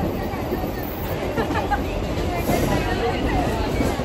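A crowd chatters over the low rumble and rattle of a moving train, voices blending into a constant babble throughout.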